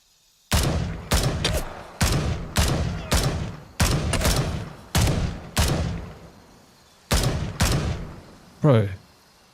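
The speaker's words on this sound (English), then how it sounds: "A lot of shots, man." Gunfire rings out in the military shooter Gray Zone Warfare, about a dozen sharp, loud reports fired in a fairly regular rhythm with short echoing tails, close by, followed by a brief voice at the end.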